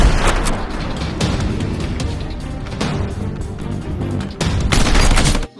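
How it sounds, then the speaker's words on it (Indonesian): Toy gun firing rapid electronic gunfire bursts, loud and continuous with a brief pause before a final burst, played among toy vehicles like tow trucks and fire engines. "Widih, tembak-tembakan ya."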